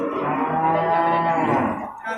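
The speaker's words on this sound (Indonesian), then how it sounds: "2 ekor sapi Aceh ini kan" Aceh cattle low at a busy livestock market, one long, loud, close moo that swells and sustains before trailing off, with no speech over it.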